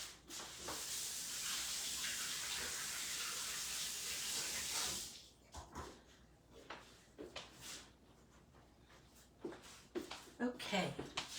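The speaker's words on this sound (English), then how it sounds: "I'm gonna wash this off my hands" Hands being washed under a running tap, a steady broadband water rush for about five seconds, then stopping, followed by scattered clinks and handling noises with speech.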